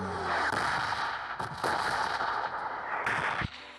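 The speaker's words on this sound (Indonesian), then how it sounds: "Kembang api nih guys" Fireworks burst in a PUBG match, a run of loud crackling, booming blasts with brief gaps, close and dense, with no talking over them.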